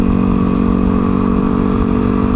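Motorcycle engine heard from a helmet-mounted GoPro Hero 3, revving steadily as it climbs through third into fourth gear, with a loud continuous drone and wind rumble throughout.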